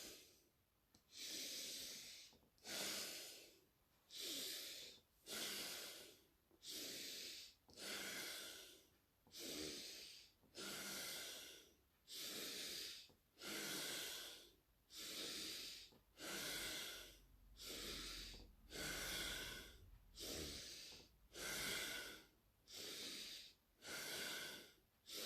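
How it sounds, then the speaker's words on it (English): Forceful breaths during a breathing exercise, pushed out through the nose and mouth with the belly muscles in a steady rhythm, about seventeen close, loud, hissing pushes over half a minute. "And using the abdominals, breathing out."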